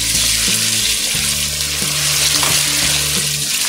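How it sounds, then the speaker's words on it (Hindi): Chicken pieces sizzle and fry loudly in a pan while being stirred, the first step of an aloo gosht curry, with a dense continuous hiss and occasional clinks of a spoon, no talking. "सबसे पहले मैं मुर्गी को इसलिए फ्राई कर रही हूँ ताकि चिकन की स्मेल खत्म हो जाए"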